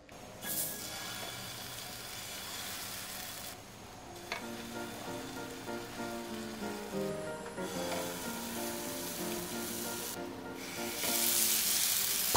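Oatmeal pancake batter sizzles in a hot pan, a steady, close crackle that holds for several seconds and swells a little louder near the end.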